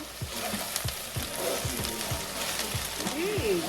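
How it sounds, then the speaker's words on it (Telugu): Bhindi (okra) fries in a pan for a spicy bendakaya vepudu, giving off a steady close sizzle with regular scraping strokes as it is stirred now and then, and a voice talks softly over it. "సో అప్పుడప్పుడు కలుపుతూ వేయించుకుందాము"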